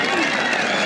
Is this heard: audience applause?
yes